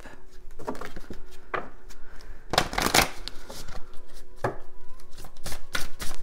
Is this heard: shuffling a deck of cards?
yes